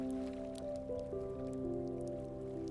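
Rain and a storm at sea around a sailing ship, a steady, dense patter of rain under a low, sustained musical drone, with no talking.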